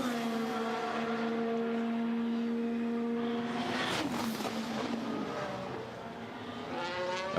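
Max Verstappen's Formula 1 car in Bahrain Grand Prix practice, a loud continuous engine whine with steady harmonics that shifts pitch as it passes and changes gear, close and unbroken throughout.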